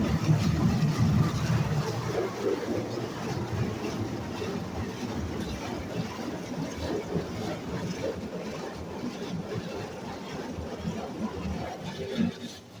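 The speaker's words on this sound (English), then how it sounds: "Oh, high pressure wash, I think." High-pressure spray from a Futura SSA touch-free car wash blasting a car, a continuous loud rushing hiss and drumming of water against the body, sustained throughout with slight surges.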